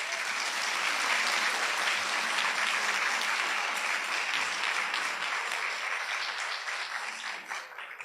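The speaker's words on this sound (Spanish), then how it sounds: "Le damos un fuerte aplauso." Audience at a university keynote lecture on gender, state and justice gives strong sustained applause, dense and steady clapping that tapers slightly toward the end.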